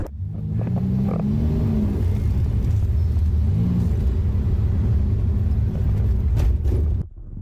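A truck engine rumbles steadily at close range, droning low with slight pitch shifts as it rolls along, then quickly drops off near the end; the truck has a new catalytic converter and is heading to an emissions retest.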